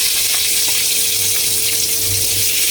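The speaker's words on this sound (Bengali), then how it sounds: "তেল গরম হচ্ছে, এখন পেঁয়াজ দিয়ে দেব।" Onions fry in hot oil while a snakehead fish dish is cooked, giving a loud, steady, close hiss and sizzle that fills the whole stretch without a break.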